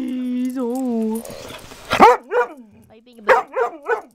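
Puppies yip and bark in a handful of short, sharp bursts at close range, after a drawn-out whining tone, in an ordinary home on a snowy winter day.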